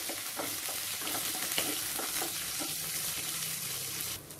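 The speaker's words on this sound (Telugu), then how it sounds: "ఇది కూడా మీడియం ఫ్లేమ్ లో ఫ్రై చేసుకోవాలండి" Green chilies, coriander seeds, cumin and curry leaves fry over medium flame in a pan, producing a steady close crackling sizzle with soft stirring taps throughout and no voices.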